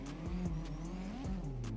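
A Nissan 240SX in the CarX driving game runs near its roughly 5,000 RPM rev limiter, a steady buzzing engine note that repeatedly dips and recovers in short pulses, moderately loud and alone.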